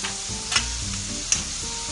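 Ground spices (turmeric, red chilli, coriander, garam masala and pav bhaji masala) fry in a pan, a loud steady sizzle close up with two sharp clicks of a spoon stirring.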